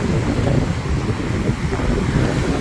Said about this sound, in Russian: Да, ветер очень сильный.